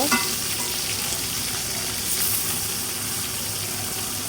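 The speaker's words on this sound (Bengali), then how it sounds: "তার জন্য মাছগুলো ভালো করে ভেজে নিচ্ছি।" Tilapia fish frying in hot oil, giving a loud, continuous, dense sizzle that stays steady throughout with no talk.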